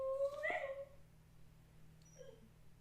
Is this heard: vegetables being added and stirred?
no